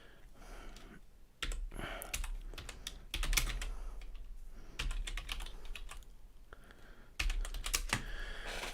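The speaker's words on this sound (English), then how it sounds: "bang on this keyboard for a second" Bursts of quick keystrokes on a computer keyboard, close up, with short clicky runs broken by pauses over a low steady background hum.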